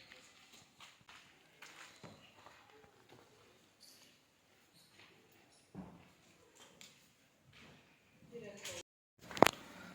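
A trained mare's hooves clip-clop in a Gujarati village, scattered irregular steps at close range, with people talking nearby and a louder thump near the end.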